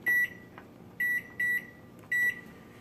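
An oven timer is set to two minutes with four short, clear electronic beeps in an uneven rhythm, each one close and bright against a quiet room.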